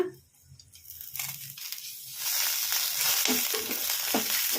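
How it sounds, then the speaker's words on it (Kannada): Green chilies fry in a spoonful of oil in a pan for a okra chutney, a bright sizzle building after a quiet start with stirring scrapes over it. "ಹಸಿಮೆಣ್ಸಿನ್ಕಾಯಿ ಹಸಿ ವಾಸನೆ ಹೋಗೋವರೆಗೂ ಫ್ರೈ ಮಾಡ್ಕೋಬೇಕು"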